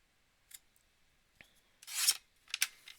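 Scissors cutting card stock down to size for a handmade card, quiet scattered snips and rasping slides through the paper, with a louder burst of cutting near the end and a couple of sharp final snips.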